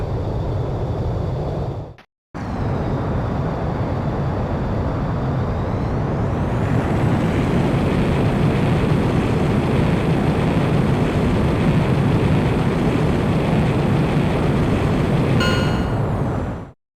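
A fighter jet takes off in the PSP video game Ace Combat X: Skies of Deception, a loud continuous engine roar with a rising whine that builds and holds after a brief cut, then drops out abruptly at the end.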